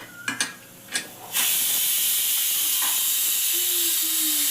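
An idli steamer starts with a few light metallic clinks, then a loud, steady hiss of steam bursts out and keeps going without a break.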